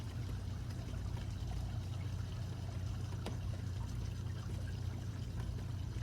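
Wastewater drains steadily out of an RV black tank on a camper trailer, a continuous low gushing flow with a rough, even texture that holds without a break.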